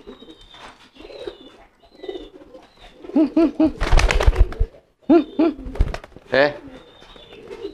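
Pigeons being trained coo in low, throaty bursts at close range, with rounded repeated calls and brief rustling between them, while a man chuckles softly in between.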